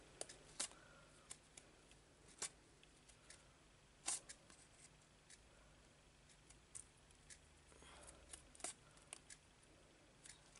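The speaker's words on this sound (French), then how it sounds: "Vous suivez vos marques et vous coupez." Quiet, intermittent snips of scissors cutting paper for a braided-border card, sharp short clicks scattered irregularly over a faint room hum.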